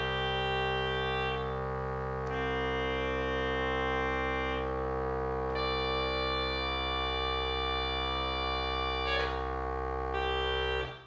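An organ plays a sustained drone imitating an ancient hydraulis water organ, with held chords and shifting upper pipes over a steady low tone, loud and alone, with no talking.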